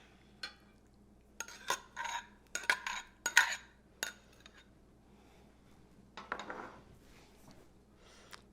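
Spoon stirring chicken paprikash in a pot, a series of scraping swirls and light clinks against the metal, close and fairly quiet with pauses between strokes.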